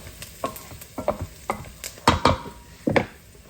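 Caramelized onions fry for a lamb karahi, with a soft sizzle under repeated clanks and scrapes of a spoon stirring in the pan, a few louder knocks near the end.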